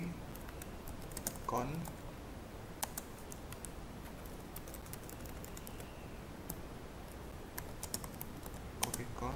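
Quiet, close typing on a computer keyboard in a room: irregular clusters of sharp key clicks scattered throughout, with a faint word spoken at one point.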